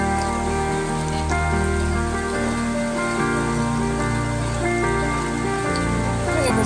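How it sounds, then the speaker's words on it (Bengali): Heavy rain pours steadily over streets flooded with water, a dense continuous wash of drops drumming on surfaces, with a tonal hum and faint murmurs layered underneath throughout. "এখনো বৃষ্টি হচ্ছে,"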